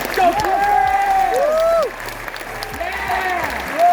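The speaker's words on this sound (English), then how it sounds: "Let's give them a round of applause." An audience at a university pageant event bursts into sustained applause, with whoops and cheering voices rising over the clapping before it tapers slightly and continues.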